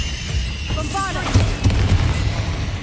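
A Bombarda explosion spell in Hogwarts Legacy on PS5 lands as a couple of thudding blasts and crashes just past the midpoint, preceded by a short voiced cry, all over a continuous bed of battle noise.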